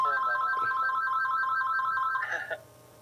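A phone ringtone rings continuously in a warbling electronic pattern, fairly loud and close in a podcast recording, then cuts off abruptly, leaving quiet room tone.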